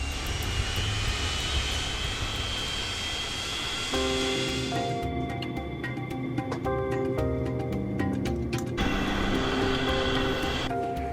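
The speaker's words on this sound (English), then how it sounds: "It takes just 4 minutes for the plane to reach the foot of the runway." A Boeing 737 jet airliner taxis toward the runway, its engines giving a steady, loud rumble and whine with tonal hums that rise and shift throughout.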